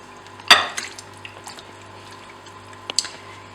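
Raw chicken for shawarma drops into a large bowl with a wet slap and clink, followed by a few softer knocks and a second clatter against the bowl.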